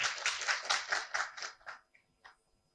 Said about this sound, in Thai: ค่ะขอเสียงปรบมือด้วยค่ะ